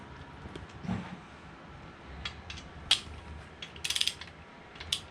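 Torque wrench ratcheting down center bolts on an LQ4 408ci stroker engine, with sparse metallic clicks and a quick burst of ratchet clicks near the end, quiet and close.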